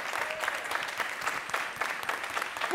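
A studio audience at a live music show in Costa Rica claps for a group, dense even applause filling the moment with no voice over it.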